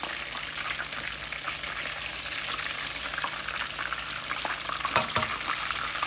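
Burger patties sizzle and crackle steadily in a hot pan, a soft continuous frying hiss with a couple of brief clinks near the end and no talking.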